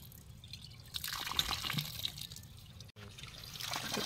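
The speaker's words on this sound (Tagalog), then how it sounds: "Pero may lumalabas ng tubig na." Water starts flowing out of a newly built hand water pump that is still leaking, a faint, uneven splashing trickle with a brief dropout near the middle, heard alone without talk.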